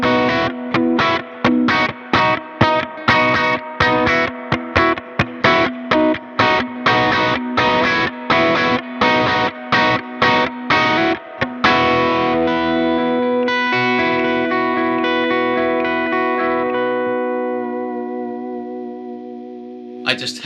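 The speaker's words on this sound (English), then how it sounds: "it's a Blues Breaker copy, and it sounds clear and not very much gain" An electric guitar runs through a Blues Breaker copy overdrive pedal, giving a clear, lightly driven tone: a rapid run of evenly picked notes, then a ringing strummed chord that slowly fades out.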